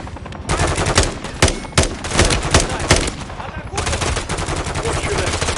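Loud gunfire in a Call of Duty video game, with sharp individual shots followed by dense sustained bursts that rattle on throughout the scene.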